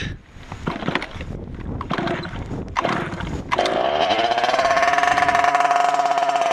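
Hybrid sprayer drone engine starting up: broken cranking bursts, then a steady loud running drone with a sustained tonal hum, close by.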